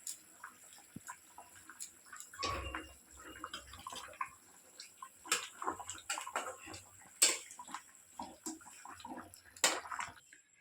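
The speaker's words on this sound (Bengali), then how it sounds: "জলটা ফুটে গিয়েছে ঝোলটা এবার আমি মাছগুলো এক এক করে ছেড়ে দিচ্ছি" Pieces of katla fish go one by one into boiling curry gravy for doi katla, making soft, quiet splashes and bubbling. Several separate plops and sizzles come and go close by.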